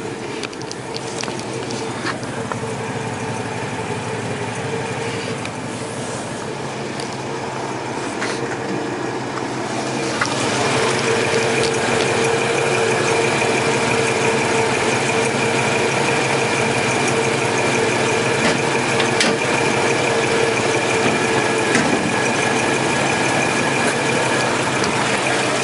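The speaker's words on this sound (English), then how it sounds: "we got a V8, it's a 241 Hemi, call it a red ram back in the day, single barrel carburetor" A 1954 Dodge Royale with a 241 Hemi V8 and single-barrel carburetor idles with a steady mechanical rumble and clatter that grows a little louder partway through, continuing throughout.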